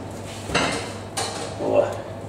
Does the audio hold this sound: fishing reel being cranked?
no